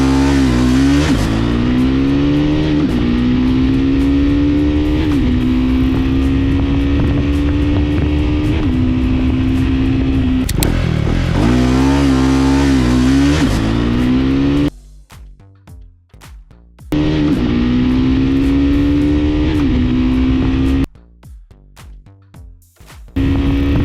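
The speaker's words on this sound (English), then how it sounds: "The Himalayan sure has an edge in the beginning, staying quicker to 100. However, the Scrambler starts catching up post that." Royal Enfield Himalayan 450 and Triumph Scrambler motorcycles accelerate hard, with loud engine drones rising in pitch through several gear changes and brief drops between them, close and continuous with no talking.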